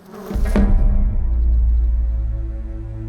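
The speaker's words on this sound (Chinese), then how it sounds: "怎么有只苍蝇？" A housefly buzzing close by in an indoor scene, a brief sharp onset followed by a steady low drone that lingers and slowly fades.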